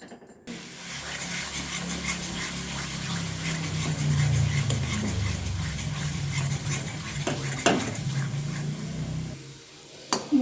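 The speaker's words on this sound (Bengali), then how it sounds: "এবারে ভালোভাবে আমি মশলাটা কষিয়ে নেব।" Masala made with cumin powder is stirred and fried in a pan for a paneer dish, giving a soft scraping, rubbing sizzle with occasional louder utensil knocks.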